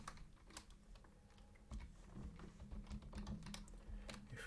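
Keys on a computer keyboard clatter in quick, uneven bursts of clicks while code is entered, close but faint.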